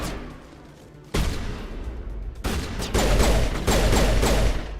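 Loud Mass Effect Legendary Edition gunfire kicks in after a quieter opening second, then holds as sustained volleys of shots that grow denser toward the end, with no voices.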